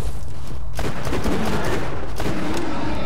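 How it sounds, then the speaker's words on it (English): Loud, dense, unbroken automatic gunfire from the shooter game Borderlands 2 rattles close up for the whole stretch. "I know something about shooting things."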